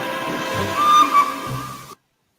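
A steam train whistle gives one sustained shrill blast with a slight dip in pitch near its middle, over a steady background hiss, then cuts off abruptly into silence.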